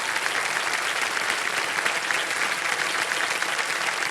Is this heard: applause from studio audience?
yes